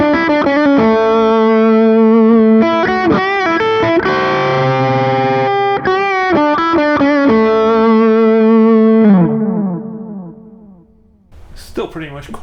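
Distorted electric guitar lead played through an OCD overdrive with a Catalyst pedal stacked after it, sustained fat notes and bends ringing loud and continuous before fading out, with a short burst of sound at the end.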